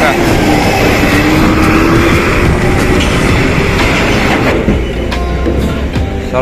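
An ANS Berkah intercity bus arriving from West Sumatra rumbles loudly past nearby, a broad continuous engine and road roar holding steady throughout, with a faint voice over it.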